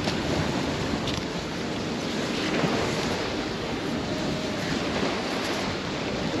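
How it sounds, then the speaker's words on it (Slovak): Wind blowing outdoors at a lakeside carp-fishing spot, a steady loud roar of gusts buffeting the microphone alongside a broad, rushing wash of water noise, with no speech. "To robí jeden vietor."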